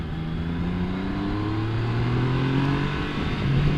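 Car engine pulling steadily in second gear on a winding country road in Northumberland, a continuous close drone with gently rising and falling revs and constant road noise throughout.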